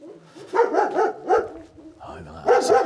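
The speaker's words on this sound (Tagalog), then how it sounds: "Ay, mga aso." Dogs bark in repeated bursts along a rural walking route in Prat de Cadí, Spain, with people's voices mixed in between the barks.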